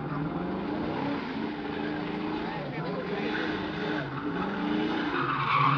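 An American muscle car with white racing stripes does a long burnout at a car show in Gijón, its tires squealing and the engine roaring steadily and close, while an announcer talks over it.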